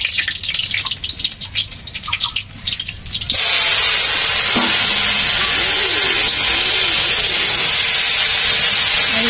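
Saag greens hit a hot pan and a loud, steady sizzling hiss takes over after a few seconds of quieter kitchen noise, continuing unbroken to the end.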